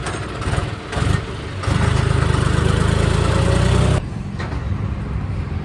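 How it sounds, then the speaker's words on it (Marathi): A tractor engine runs as it pulls into a sugar factory, a close, loud diesel chugging that idles unevenly at first, then revs up into a steady, heavier throb before settling back to idle. "चला आता आतमध्ये लावू ट्रॅक्टर."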